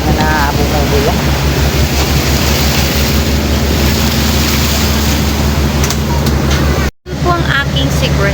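A pump boat motoring across the sea off Cebu near the Camotes Islands, with a loud constant engine drone, rushing water and heavy wind buffeting the microphone. It briefly drops out near the end, and voices talk over it.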